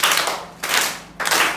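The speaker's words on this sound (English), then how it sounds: "Clap hands for him." Schoolchildren in a classroom clap for a classmate during a lesson: three short bursts of group hand clapping, close and loud, each separated by a brief gap.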